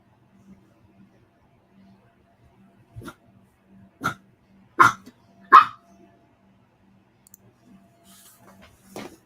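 A dog barks several times in short, sharp bursts, a few seconds apart, against a quiet background with a faint low hum.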